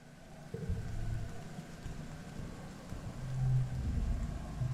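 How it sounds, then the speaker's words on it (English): Rain falls in I Was a Teenage Exocolonist, a steady soft hiss over a low rumbling ambience that swells slightly toward the end, with no voices. "Nem scowls as she watches the rain come down."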